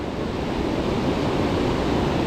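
A river running high splits into two channels, giving a steady, dense rush of flowing water that stays loud and even throughout with no voices.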